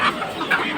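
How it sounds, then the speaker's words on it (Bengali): Chickens kept for sale at a busy poultry and pigeon market cluck in short, close bursts that rise and fall over a steady crowd murmur. "এখানে আবার দেখা যায় সুন্দর সুন্দর কিছু মুরগি রাখা আছে"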